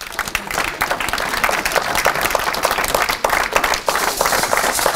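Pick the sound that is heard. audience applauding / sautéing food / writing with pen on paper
audience applauding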